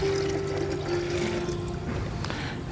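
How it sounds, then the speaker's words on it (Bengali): Water being poured from a one-litre measure into a jar holding 200 grams of cow dung manure, a steady close trickle and splash running continuously with no talk over it. "এই জারের মধ্যে এই যে 1 লিটার জল আমি মিশিয়ে দেব"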